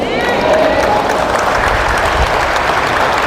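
Many hands applaud at a church gathering in Cavite City, a loud, continuous crowd clapping of a few seconds with a faint voice and murmur underneath.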